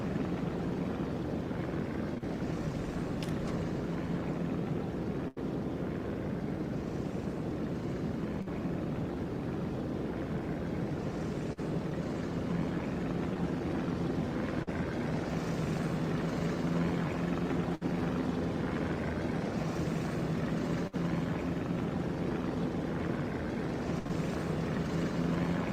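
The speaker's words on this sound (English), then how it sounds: "Let's get our scouter plane out." A spotter airplane flying in the naval combat game World of Warships, heard as a continuous propeller-engine drone with ocean and ship ambience, steady and fairly loud throughout, with no talking.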